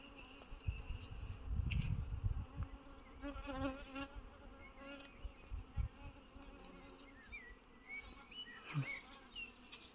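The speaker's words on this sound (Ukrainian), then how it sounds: "Це бджола хоче до неї." Close buzzing of a honeybee, its wings droning and shifting in pitch as it moves around near the listener and a queen bee, with faint rustling and light handling noise.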